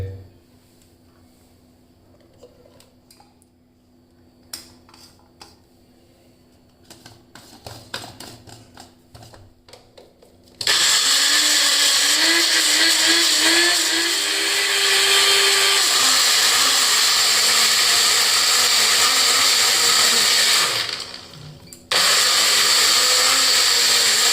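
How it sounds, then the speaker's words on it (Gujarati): A few clinks and taps, then a mixer grinder crushing chopped raw mango in its jar roars loudly and steadily, briefly pauses, and starts again at full power. "હવે આપણે એક મિક્સર જાર લઈશું અને એની અંદર આપણી કેરી નાખી દઈશું"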